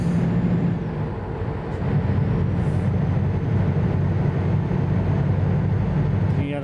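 Truck traffic rumbles in Euro Truck Simulator 2, a steady low drone of heavy engine and road noise close by, continuous and loud without any speech.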